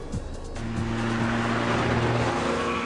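Ferrari 430 Scuderia sports car driving on the road, its engine rising into a steady, droning tone with clear rising harmonics, moderately loud and unbroken, with no talking.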